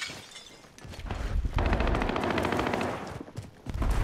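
Rapid bursts of automatic gunfire in the video game Call of Duty: Modern Warfare, loud and close, with dense rattling volleys that swell and fade, and no talking.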